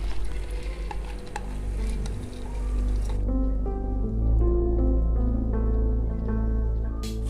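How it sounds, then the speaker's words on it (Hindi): Soaked, washed masoor lentils fry in a pan of spices for a pulao. A steady close sizzle runs throughout, with wet stirring and squishing as the mixture is moved around, and no talking. "एक से 2 मिनट के लिए हम दाल को मसाले में फ्राई कर लेंगे।"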